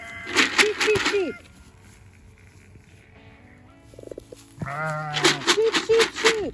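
Sheep on a farm bleating in loud, wavering bursts, several calls clustered at the start and again at the end with a quieter gap between, close to the listener.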